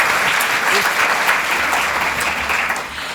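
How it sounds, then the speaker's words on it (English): Audience applause for two presenters at a Māori financial wellbeing talk, a dense steady wash of clapping filling the whole stretch at close range. "Round of applause, please"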